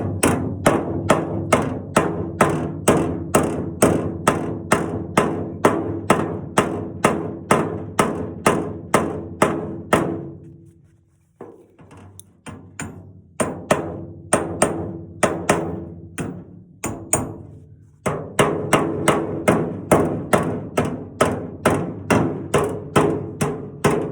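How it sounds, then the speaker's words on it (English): Tinning hammer striking sheet metal during body work on an old truck: a steady run of sharp, evenly spaced metallic thuds up close, a brief scattered pause midway, then the regular rhythm resumes. "That's what they call a tinning hammer for working tin and stuff."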